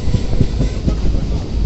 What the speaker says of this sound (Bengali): ট্রেন ব্যান্ডেল স্টেশনে ঢুকছে